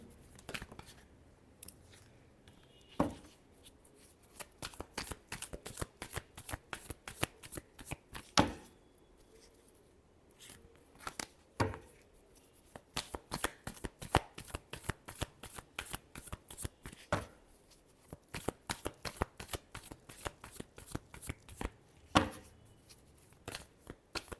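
Tarot cards being shuffled by hand in a quiet room, a long run of crisp riffling bursts and slaps with short pauses between shuffles, close and clear with no talking.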